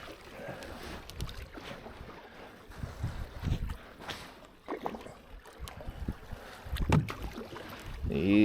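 A canoe runs grade 4 rapids on the River Wye in October, with churning, splashing water and gusty wind buffeting the microphone, paddle knocks and bumps at close range, and brief voices underneath.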